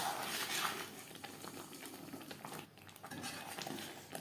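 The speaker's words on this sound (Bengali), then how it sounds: "হাই টু মিডিয়াম ফ্লেমে 3-4 মিনিট নাড়াচাড়া করে নেব।" A spoon scrapes and clinks against a pan while kohlrabi curry is stirred over high-to-medium heat, with soft sizzling underneath, close and fairly quiet.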